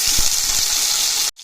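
Tomatoes hit a pan of sautéing onions, setting off a loud hissing sizzle that runs steadily for over a second and then cuts off abruptly.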